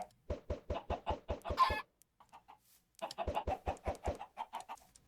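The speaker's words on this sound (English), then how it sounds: "we can finally give these poor chickens something to drink" Chickens in a video game cluck in quick rhythmic bursts, a run of sharp clucks, a brief pause, then another steady series, close and clear.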